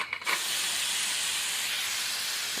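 Pressure cooker in a village kitchen releasing trapped air, a brief clatter and then a loud, steady rush of hissing steam that continues unbroken to the end.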